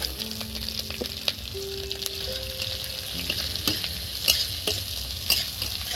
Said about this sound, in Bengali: এবার কুচি কুচি করা পেঁয়াজটা দিয়ে দিচ্ছি।